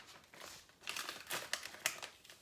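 Scissors snip through small paper design pieces during a glass cutting board craft project, giving a few quick crinkly cuts that grow louder after a soft start, close up with no talking.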